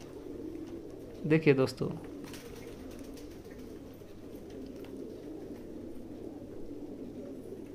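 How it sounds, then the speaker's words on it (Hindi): Pigeons coo in a room at a pigeon loft, a short cluster of soft, throaty coos rising briefly near the start over a quiet background, with someone speaking. "रूम में मैं ठहरा हूँ दोस्तों और रूम के चारों तरफ कबूतर ही कबूतर है।"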